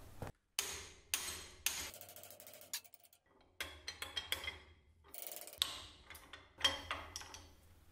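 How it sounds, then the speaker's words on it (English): Sharp metallic hammer strikes on a welded metal part at close range, irregular and separated by brief silences, with some mechanical clicks between blows. "I'm going to have to get a hammer."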